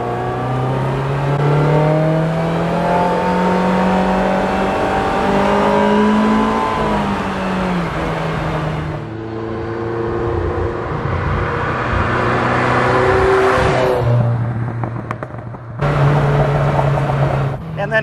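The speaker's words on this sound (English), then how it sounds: "you can hear a little bit of timing chain noise and valve train noise" A 1978 Ferrari 308 GTB engine revs up and down repeatedly, rising and falling in pitch with a rough, throaty tone and brief pauses between throttle blips, with a little timing chain and valve train noise.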